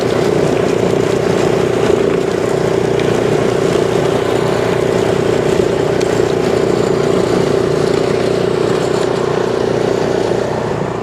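A city truck drives down a street, a loud steady engine drone with a constant tone and road noise holding throughout without speech.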